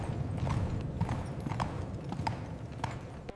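Horse hooves clip-clop at a steady walking pace, a horse-drawn carriage moving along at moderate distance, the rhythmic clops fairly quiet against a low background rumble.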